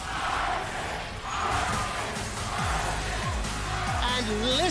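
An arena crowd of esports fans at a League of Legends Worlds group-stage match sends up a steady roar of cheering, swelling in waves, with game sound effects and other noise layered through it.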